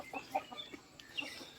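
Village-raised native chickens give a few short, soft clucks in quick succession, faint and close, with no talk.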